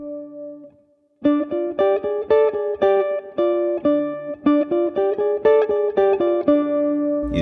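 A jazz guitar plays a D blues scale against a repeated high D pedal tone, crisp plucked double-stops in a quick even rhythm after a short held opening note, close and clean.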